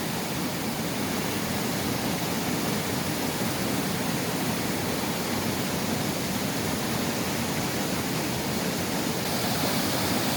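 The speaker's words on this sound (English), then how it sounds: "The sluice gate." Steady, loud rush of water pouring through a sluice gate at an old mill on the River Itchen, a dense continuous roar with no pauses and no voices.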